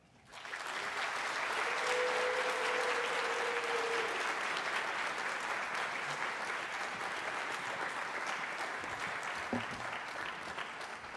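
A large audience applauds the college president at Buffalo State College's 150th anniversary celebration, a loud, dense, sustained ovation that swells in within the first second and holds steady to the end.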